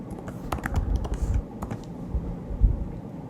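Rapid typing on a computer keyboard while coding, a quick run of irregular clicks and key taps heard close with a few heavier strokes, and no speech over it.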